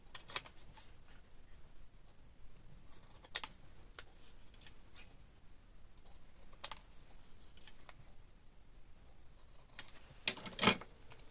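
Scissors trim a paper panel for a craft piece, giving a few short, faint crisp snips spaced apart over quiet room background, with a sharper louder cluster of cuts near the end.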